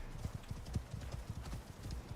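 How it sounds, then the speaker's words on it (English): Horse hooves clip-clopping in the video game Icarus, a steady run of close, quick thuds repeating irregularly over a low background rumble. "what is this horse doing?"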